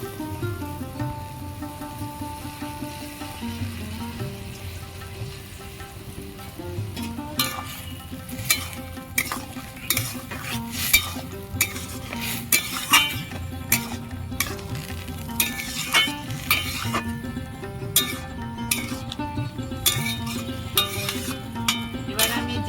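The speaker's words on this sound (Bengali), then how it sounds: "জল জলটা ফুটছে এবার আমি প্রচুর ফুলগুলো এই জলের মধ্যে দিয়ে দেবো" Taro flowers being stirred in a pot of boiling water: a steady bubbling, sizzling bed with a rhythmic series of sharp utensil scrapes and knocks that grows busier and louder in the second half, close up.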